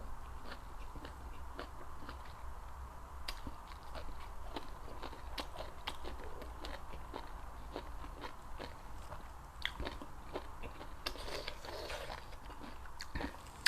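Close, steady biting and chewing of food during a Thai-language eating show, with crisp crunchy bites repeating irregularly over a constant low background hum and no talking.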